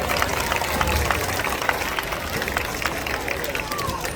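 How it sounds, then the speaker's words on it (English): An audience at a zoo seal show claps for a seal, with a dense wash of steady applause and crowd noise heard from within the crowd and a voice speaking over it. "how about a big round of applause for Moby?"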